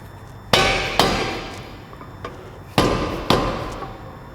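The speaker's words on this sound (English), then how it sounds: "Sometimes it takes a little bit of tapping to get it to seat in there" Sharp metallic hammer taps on a rear brake caliper bearing, seating it on an FRS/BRZ dual rear caliper kit: four loud, ringing strikes in two pairs with short decaying rings, plus a faint lighter tap between them.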